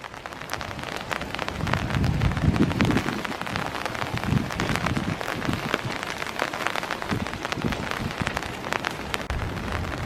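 Rain falls steadily in Iroquois Park on a foggy morning, a dense, even patter of drops on surfaces with a soft wash of wind, continuous and moderately close.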